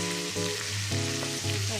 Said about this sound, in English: Now we're going to add in our seasoning and also apple cider vinegar. You can go ahead and mix it all together.